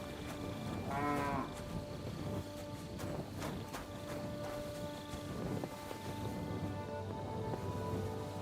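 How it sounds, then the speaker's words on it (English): A cow in the video game Kingdom Come Deliverance 2 lets out a single drawn-out moo early on, over a quiet rural backdrop of chirping crickets and faint ambient noise. "Yes, yes, Moo, we hear you."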